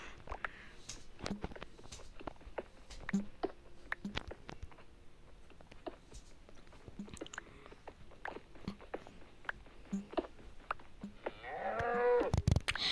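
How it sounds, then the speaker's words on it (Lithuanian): A cow in the video game Minecraft moos faintly a few times amid a quiet bed of rapid clicking and tapping game sounds. "Gal karvė baik mūkti."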